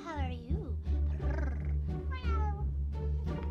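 A woman imitates a cat with a series of drawn-out, close meows, repeated several times in a sing-song voice with a steady low hum underneath.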